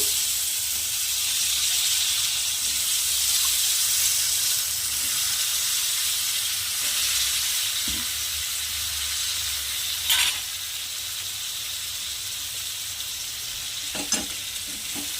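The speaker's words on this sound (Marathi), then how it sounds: "आता याला छान मिक्स करू छान मिक्स करायचं आहे ना" Potato and brinjal curry sizzles and hisses steadily in a hot pan, with occasional scrapes and taps of a spoon stirring it, close and continuous throughout.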